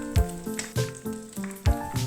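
Fish fries in hot oil in a home kitchen as it is turned, a steady close sizzle broken by several louder spattering bursts and soft clacks of the utensil, with no voices.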